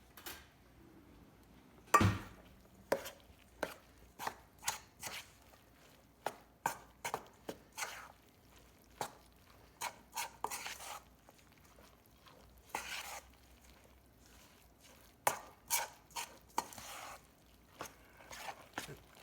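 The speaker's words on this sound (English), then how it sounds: "let's get a spoon and get this mixed up" A spoon scrapes and knocks against a bowl while zucchini quiche ingredients are mixed, giving sharp irregular taps and clinks, close and fairly quiet, with silence between strokes.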